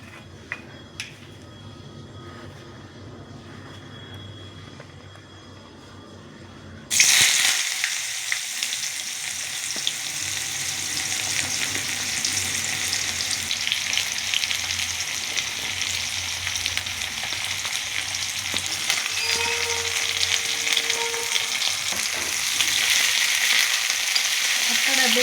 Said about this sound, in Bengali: আপনারা দেখলেন আমি গাজর, বিনস, ফুলকপি সব একে একে দিয়ে দিলাম।